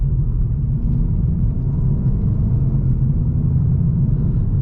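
A 2023 Mercedes-AMG CLA 35 Coupe driving in Sport Plus mode, its gears shifting quickly, produces a loud, steady low rumble of engine and road noise from inside the cabin with no distinct shift breaks.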